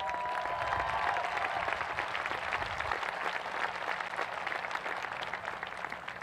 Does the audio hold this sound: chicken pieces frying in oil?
no